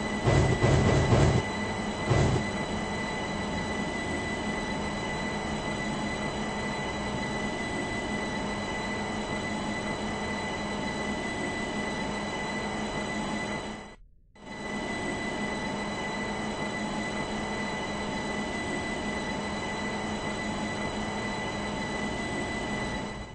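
A video game train arriving at a station rumbles steadily with a constant electric hum and rolling wheel noise, briefly cutting out midway before resuming, with no voices.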